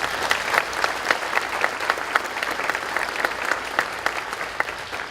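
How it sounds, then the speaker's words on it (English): Steady applause for honorees at a construction industry diversity gala, many hands clapping in a sustained, even wash at moderate volume, with individual claps popping out of the crowd. "A round of applause for them,"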